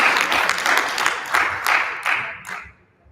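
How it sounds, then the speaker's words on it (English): Audience applause for a governor at a news event, heard as a few short surging bursts of clapping that rise and fall before dying away to quiet. "give him a round of applause"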